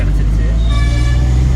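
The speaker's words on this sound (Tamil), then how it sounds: "அப்போ பஸ் ஒரு ஹார்ன் அடிச்சுங்க" A bus horn honks on a road, a steady tooting tone rising over a loud, close engine rumble and traffic noise.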